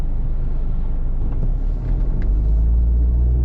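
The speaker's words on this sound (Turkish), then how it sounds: "Trafik de başladı." Low, steady road traffic rumble fills a city street in Wil, Switzerland in the early morning, with cars passing at a moderate distance and no voices.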